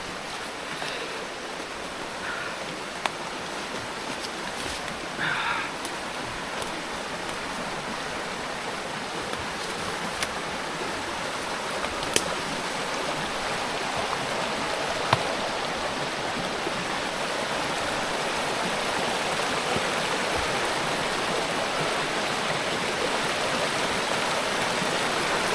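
A river rushes through a forest after a typhoon, a dense, steady roar of flowing water heard up close, continuous throughout with a few faint clicks on top.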